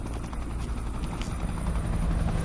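A helicopter flies overhead during a police standoff, its rotor throbbing in a steady low, fluttering beat with a continuous engine whine, moderately distant and unbroken.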